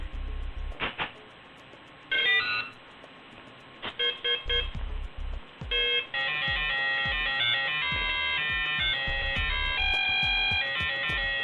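An electronic speed controller on a Trex 450 clone RC helicopter sounds loud tonal beeps and chirps, first in short separated bursts, then a continuous run of stepping melodic tones.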